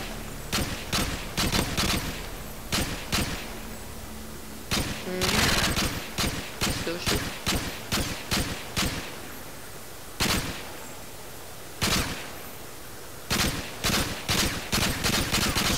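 Rapid FAL rifle fire in a video game, crackling in quick bursts and long strings of shots with short pauses between, loud and close throughout.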